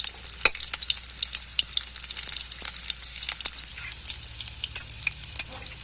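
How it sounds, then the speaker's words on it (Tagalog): Onion and garlic sauté in hot oil for a Filipino kangkong and string bean stir-fry, a steady bright sizzle with scattered crackles and pops and occasional utensil scrapes from stirring, close and continuous with no talking. "Kapag mainit na yung mantika, ilalagay natin yung sibuyas at bawang, pamparoma."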